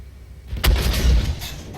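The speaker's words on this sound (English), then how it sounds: "That's because I'm shooting high explosive rounds" An M109 self-propelled howitzer in Armored Warfare fires high explosive rounds: a sharp, close boom with a deep rumbling tail, followed by a second fainter crack, with no speech.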